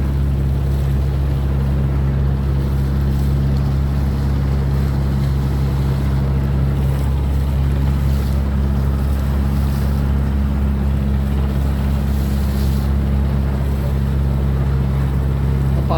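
A speedboat motor runs on the sea off Boracay in the Philippines: a loud, steady low engine drone with water and wind noise throughout, unbroken for the whole stretch.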